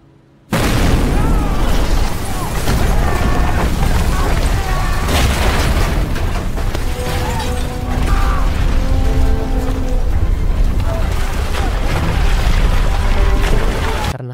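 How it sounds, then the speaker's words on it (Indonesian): A sudden loud boom erupts after a quiet moment as nuclear reactor unit 3 explodes, followed by a sustained roaring, rumbling din with crashing debris and mechanical noise. "Mendadak, mesin nuklir unit 3 meledak."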